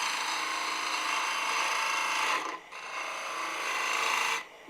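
Wood turning on a lathe, a parting chisel finishing a bead on a toadstool house piece: a steady close rasping scrape that fades out briefly mid-way, resumes, then stops near the end.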